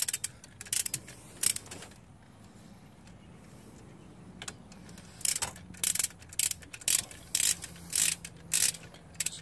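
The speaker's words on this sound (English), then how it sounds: "get my torque wrench over here and just start torquing these down." Ratcheting torque wrench tightening bolts in corner-to-corner order while an engine is swapped into a Chrysler Town & Country/Dodge Caravan: a quiet workshop pause, then bursts of rapid clicking ratchet strokes, close and repeated, with no talk.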